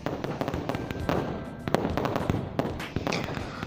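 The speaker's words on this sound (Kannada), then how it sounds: "30 ಮಿನಿಟ್ಸ್ ಹೀಗೇ ಪಟಾಕಿ ಸಿಡಿಸಿದ್ದಾರೆ." Firecrackers bursting outdoors near a shop during a lengthy street celebration, a dense run of loud sharp cracks and pops in quick irregular succession, some close and some further off.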